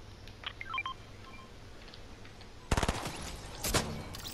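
Gunfire in the Fortnite video game starts partway through as a sharp burst of rapid shots and returns with a second short volley, after a quiet stretch of faint electronic beeps; no one speaks.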